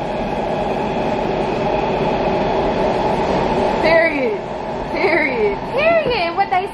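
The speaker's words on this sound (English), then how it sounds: "I can do it when the train moves." A metro subway train rumbles along under a steady roar of wheels and carriage noise, close and continuous, while people talk and laugh over it.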